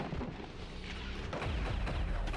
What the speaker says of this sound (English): It's an explosion